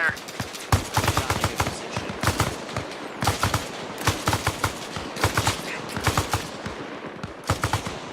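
Bursts of automatic rifle fire crackle in Arma Reforger during a battle at a roadblock, rapid rattling volleys repeating in clusters every second or so, close and sharp with brief gaps between them.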